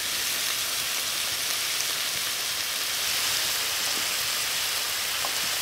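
Fish sits skin side down in a foil-covered pan over an outdoor fire in Maine's arctic cold, giving off a steady, dense sizzle that hisses on without pause, with no talking.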